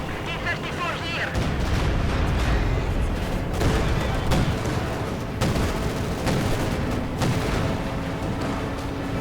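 Mortar and artillery fire in the World War II strategy game Company of Heroes 2, a dense, continuous barrage of booms and blasts layered under battle noise, with a commentator talking over it.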